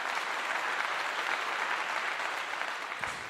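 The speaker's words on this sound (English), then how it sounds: "Give him a clap." Applause from a crowd at a Colorado versus Texas Tech football post-game event, many hands clapping steadily at moderate distance for a few seconds before easing off slightly.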